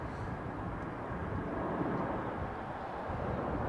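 Airliner arriving from Mexico City on runway 09L at Heathrow Airport, a steady low broad roar of jet engines heard from a distance, constant and without voices.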